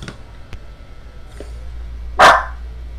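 A dog barks a few times at a distance, then lets out one loud, sharp bark up close, over a low steady background hum.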